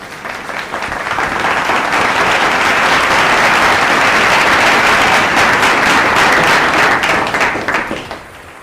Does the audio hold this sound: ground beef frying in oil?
no